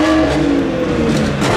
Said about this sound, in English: Just loads of things are revving at the same time.